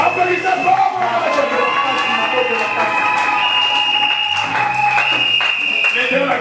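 A church congregation at a Sunday service claps steadily in a dense, sustained wave of applause, with a bright tonal sound and crowd voices mixed in throughout.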